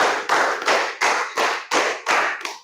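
Sharp hand claps ring out at a steady beat during a classroom clapping game, about eight crisp, loud strikes in quick succession with no talk over them.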